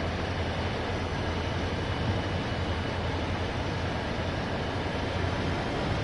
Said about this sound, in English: Ooh, a tanker train.